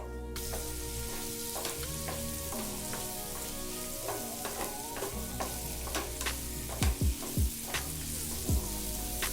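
Soya chunks stir-frying with green chilies and chili powder in a pan, a steady close sizzle with occasional scraping stirs and a few sharp knocks near the end.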